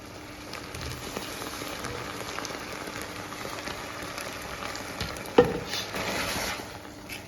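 Risotto cooking in a pan gives a steady, even crackling sizzle throughout, close and moderately loud, with one brief sharp knock partway through and no talking.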